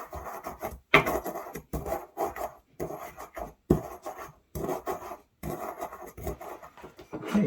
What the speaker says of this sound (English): So I'm going to just grind up some of this coffee and sprinkle it in there.